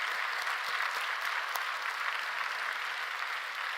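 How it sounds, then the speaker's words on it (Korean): A church congregation at a Friday night service applauds with sustained, even clapping heard at a moderate distance, a few sharper individual claps standing out from the steady crowd texture. "우리 교인들은 이 박수를 너무 잘 치시는 것 같아요"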